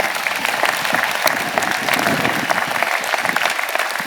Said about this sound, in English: please give another round of applause to everybody in the audience